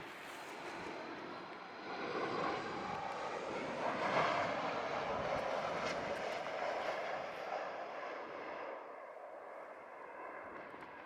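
Jet airliner landing on runway 07 at a Jamaican airport, a steady broadband engine roar swelling around the middle and easing off toward the end, heard from a spotting position with no talk.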